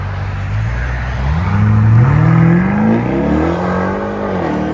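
A straight-piped SUV accelerates hard nearby, its loud exhaust drone climbing steadily in pitch before easing off, with no talk over it.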